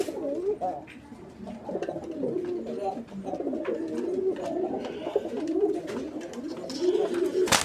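A male desi Bombay pigeon coos in repeated, rhythmic throaty phrases close by, with faint voices in the background.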